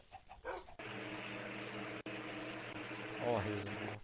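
A tamed dog in the Minecraft video game gives short yips and barks beneath loud, continuous game noise and a player talking.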